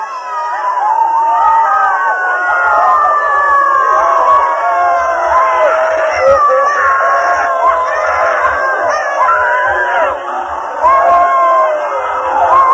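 Participants in a dynamic meditation session shout, wail and scream together in a loud, dense, continuous crowd of voices, rising and overlapping throughout with no pause.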